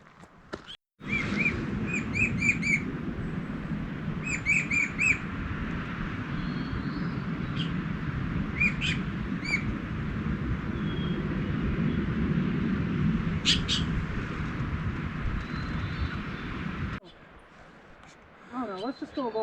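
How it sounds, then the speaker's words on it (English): In a mountain meadow at Mount Rainier's Paradise area, a distant bird sings short, high, twittering phrases at spaced intervals over a steady wash of wind or water noise, faint and far off. "I hear a bird down there. I don't think I've heard before."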